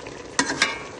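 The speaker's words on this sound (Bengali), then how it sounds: "নেড়ে চেড়ে দিয়ে" Okra and shrimp curry being stirred in a pan gives two quick scraping strokes over a soft, low sizzle, close and fairly quiet.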